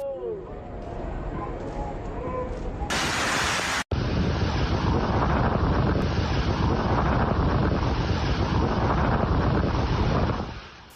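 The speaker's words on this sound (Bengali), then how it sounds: "প্রবল বর্ষণ ও ঝড়ো হাওয়ায় একাকার জনজীবন" Storm wind and heavy rain in Saudi Arabia roar as loud, broadband buffeting against the microphone, steady for several seconds after a brief calmer opening where voices are heard.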